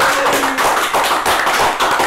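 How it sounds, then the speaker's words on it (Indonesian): A crowd at a congress event claps steadily for a candidate pair, a dense wash of applause that holds at an even loudness from start to finish. "Boleh dong tepuk tangan dulu ya"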